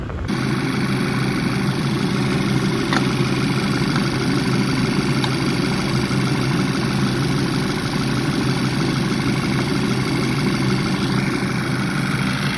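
Petrol engine of an Audi A3 / VW Golf Mk6 idles steadily after a heater coolant hose quick coupling was replaced, a constant low rumble with a faint high whine, close and loud, with no talking.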